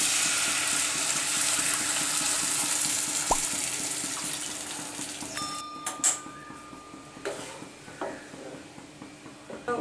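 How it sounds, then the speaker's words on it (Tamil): Dissolved tamarind water is poured into a pan of cooked onion and tomato for omelette gravy: a steady splashing pour gives way to softer sizzling and bubbling, close up, with no talking. "இப்போ நம்ம இதில் கரைச்சி வச்சுருக்கிற புளி தண்ணியை உள்ள ஊற்றிடலாம்."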